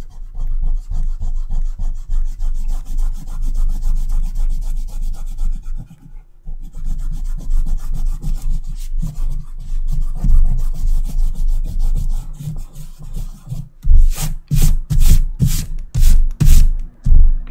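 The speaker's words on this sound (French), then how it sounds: "je peux gommer même les petites marques" A pencil eraser rubs out marks on a drawing of Gomah from Dragon Ball Daima, loud close scrubbing in a continuous back-and-forth rasp that ends in a run of quicker, sharper strokes.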